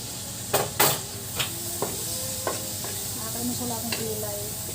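A pot of tomatoes simmers with a soft steady sizzle while a spoon stirs and scrapes, giving a few sharp clinks against the metal near the start and lighter taps later.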